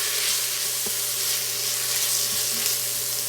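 Ingredients sautéing in hot oil inside an Instant Pot for chicken soup: a loud, continuous sizzle close up, with a couple of soft knocks from a utensil stirring the pot.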